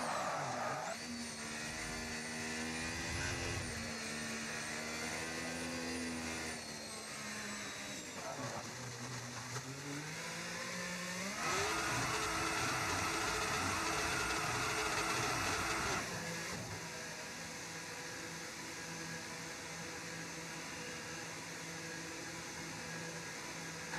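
An F1 25 video game car engine is held at maximum revs in the pit lane, a loud, sustained high-pitched whine with shifting harmonics that steps up in pitch partway through, heard alone without talk.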